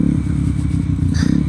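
A motorcycle ridden on the road, its engine a close, steady low throb with a slight rattle over a short moment, and no talk.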